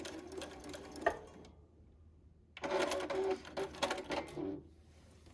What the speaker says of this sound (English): I'm going to sew right off the edge of this